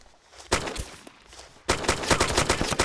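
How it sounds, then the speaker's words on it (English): Gunfire in the survival shooter DayZ: a sharp nearby crack, then a rapid cluster of loud shots and impacts striking close by, with no talk. "a round landed really close to me"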